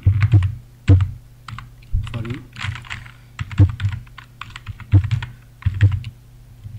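Typing on a computer keyboard while writing a blog post, with bursts of close key clicks and heavier spacebar or enter thumps at a steady, uneven rhythm, heard alone over a low background hum.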